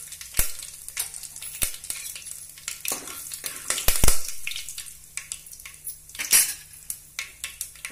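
Asafoetida, turmeric, cumin and curry leaves crackle in hot oil as the tempering for a Maharashtrian green pea usal curry. A steady sizzle runs under repeated sharp clinks and scrapes of a spoon against the pan.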